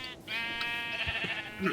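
A sheep in the video game Minecraft gives a single drawn-out, wavering bleat, close and clear, while a person talks faintly underneath.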